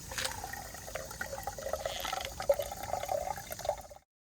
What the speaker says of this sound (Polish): Teraz jesteśmy przy wodzie i myjemy sobie gareczki.